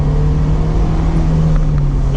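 A powerful car engine holds a steady, loud, deep rumble right after hard acceleration, with a continuous low drone and no talking.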